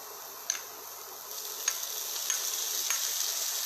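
Onions and tomatoes sauté in a pan for pav bhaji with a soft, steady sizzle. Occasional light ticks of a utensil sound close by, and the hiss gradually grows a little louder.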